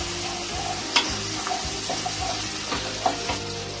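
Chilli stirred into a jackfruit and prawn curry in a pan, a continuous sizzle with repeated scraping strokes and occasional sharper clinks of the spoon against the metal, steady and close with no talking.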